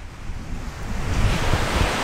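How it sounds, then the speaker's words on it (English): Wind blowing across an empty beach at Freshwater Point near Mackay, with waves washing in: a steady broad rush of surf and gusty wind noise on the microphone, swelling louder toward the end, with no talk. "The wind is blowing"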